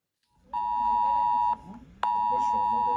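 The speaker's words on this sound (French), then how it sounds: "Une sonnerie reconnaissable et une notification automatique avec un message d'alerte envoyé sur tous les téléphones portables" A loud, steady emergency alert tone sounds from mobile phones in long sustained beeps, broken by a brief pause, with faint voices and background noise underneath.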